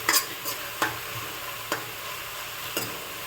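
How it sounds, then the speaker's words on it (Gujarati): Onion, tomato, ginger and chili paste with green onions sautéing in a pan, with a steady soft sizzle broken by several sharp scraping stirs of a spoon, close and alone. "ડુંગળી ટમેટા આદુ મરચાંની પેસ્ટ સંતળાઈ ગઈ છે. લીલી ડુંગળી એડ કરીશ."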